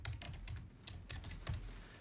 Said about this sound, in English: if we start typing